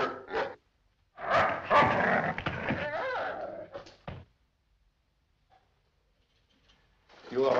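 Dog barking in a 1958 film scene, a few sharp, loud barks close by mixed with voices, then a long quiet gap before another burst of sound at the end.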